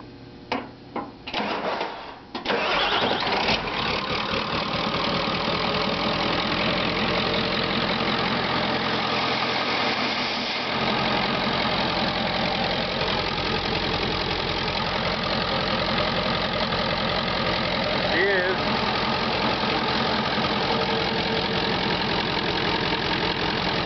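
A gas-to-diesel converted engine, started by jumping the solenoid, cranks and sputters for a couple of seconds, then catches and runs at a steady, loud, rough diesel idle that continues to the end.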